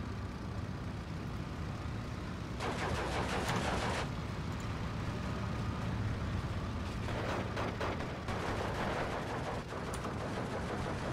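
Mortar fire in the wartime strategy video game Steel Division II, rapid crackling bursts of distant shelling in two clusters over a steady low battlefield rumble, fairly faint.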